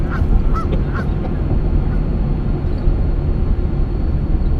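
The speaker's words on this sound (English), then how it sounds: "That's a whole flock of geese over there following him around the pond." Several goose honks from a flock at a pond ring out in the first second over a steady, loud low rumble, then the rumble carries on alone.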